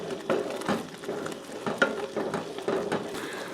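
A spoon scrapes and stirs through a fudge mixture at a rolling boil in a pot, making quiet, repeated swishing strokes over a soft, steady bubbling sizzle.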